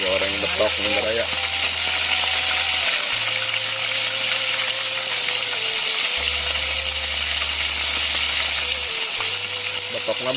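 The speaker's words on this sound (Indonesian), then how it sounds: "Wih, goreng betok nih beraya." Betok fish, climbing perch, sizzle and crackle steadily in a frying pan, a dense continuous hiss with occasional stirring, and a low hum running underneath.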